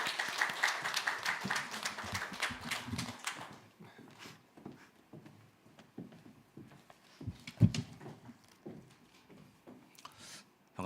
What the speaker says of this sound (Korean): 우리 강사 목사님은 박수로 우리 환영하면서